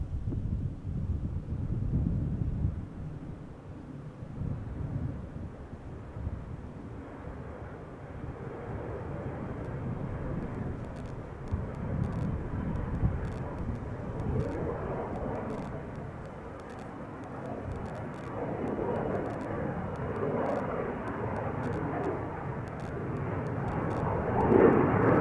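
A KLM Embraer 175 takes off from Schiphol's Polderbaan, a low, wind-buffeted jet roar that swells and fluctuates over about twenty-five seconds, heard from outdoors without talk.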